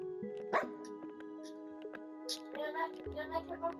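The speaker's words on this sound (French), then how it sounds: "Parce que j'ai trouvé un chien." Minecraft dog (tamed wolf) in a survival game, giving a few short barks and whimpers under steady game music and a child's chatter, moderately loud and close.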